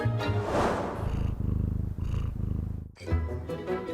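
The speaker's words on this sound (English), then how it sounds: "making cats the perfect purring predators" A cat purrs steadily up close, a rhythmic rumbling buzz that pauses briefly near the end before resuming.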